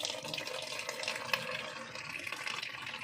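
Water pours steadily from a water filter being cleaned, a continuous close splashing rush with soapy, murky runoff, fairly loud and unbroken for a few seconds.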